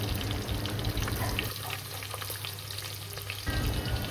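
Green chillies and two finely chopped medium onions frying in a pressure cooker for veg pulao: a continuous close sizzle with hissing and crackle, briefly easing midway before rising again, no talk.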